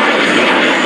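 A propeller airplane sweeps past quickly during an air show at Radawiec, its engine roar loud, steady and close throughout the brief moment.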